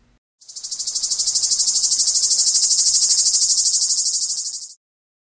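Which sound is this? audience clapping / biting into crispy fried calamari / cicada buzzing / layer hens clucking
cicada buzzing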